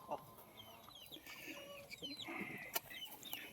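Farm chickens cluck and chirp faintly at a distance in an outdoor yard, with a soft steady background and a few sharper calls scattered throughout.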